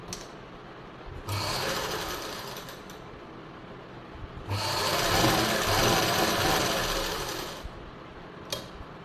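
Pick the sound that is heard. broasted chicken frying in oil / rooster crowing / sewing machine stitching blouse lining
sewing machine stitching blouse lining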